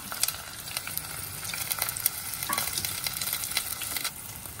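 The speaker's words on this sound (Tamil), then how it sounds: "இப்போ வந்து நம்ம எண்ணெயில் வந்து கடுகு, வெந்தயம், வெங்காயம், கருவேப்பிலை, பச்சை மிளகா போட்டிருக்கோம்" Onions, mustard seeds, fenugreek, curry leaves and green chillies fry in hot oil for a South Indian fish curry, giving a close, steady crackling sizzle with sharp pops and spatters and no voices.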